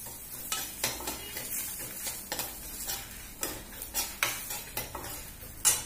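Dried red chillies and garlic heat in a pan, a soft sizzle broken by repeated clinks and scrapes of a spoon stirring against the metal, near and rhythmic, with no speech.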